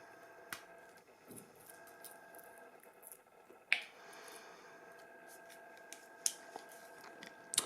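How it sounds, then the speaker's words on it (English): Small scissors trim dead roots from a miniature Phalaenopsis orchid, giving a few quiet, sparse snips and clicks spread irregularly over a faint room hiss. "So I'll just quickly trim all of these off."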